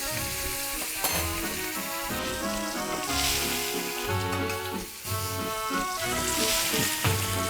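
Steak searing in a hot pan as it is turned over, a steady close sizzle running throughout with brief louder crackles and no talking.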